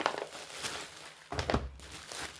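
Crinkling of a plastic packaging pouch holding a Xiaobei product being opened, with dense rustling bursts near the start and a louder crumpling flurry around the middle, close and fairly quiet.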